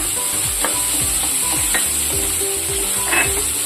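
Chopped onion and green chillies fry over high heat in a pan, a steady sizzle with soft scraping stirs and occasional light clinks, close and continuous with no talking.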